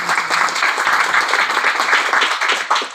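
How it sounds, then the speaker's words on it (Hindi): An audience at a direct-selling event applauds for the women present, with loud, dense, steady clapping from a crowd lasting throughout, close and without speech. "सही में इनके लिए दिल से एक बार तालियां।"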